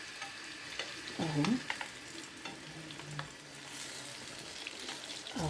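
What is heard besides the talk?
crispy chicken pieces frying in hot oil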